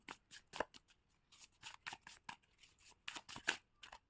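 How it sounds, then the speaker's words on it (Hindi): A deck of tarot cards is shuffled by hand in a quiet room, giving a run of short crisp riffling bursts and soft slaps at an uneven pace, close and fairly faint, with no voices. "जब मैं शफलिंग करूँगी प्लीज़ शफलिंग पे फोकस कीजिएगा"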